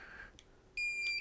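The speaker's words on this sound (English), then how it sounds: "And it beeps 3 times." A Solax transformer gives a short, high electronic beep, quiet and close, with faint background hum and no voices.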